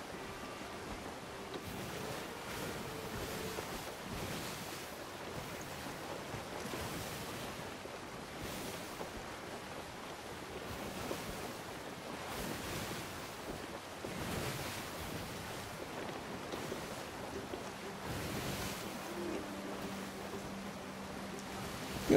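Ship sailing through waves in the Sea of Thieves video game, a continuous wash of surf and wind rushing at steady loudness, with low creaks and swells underneath and no talking.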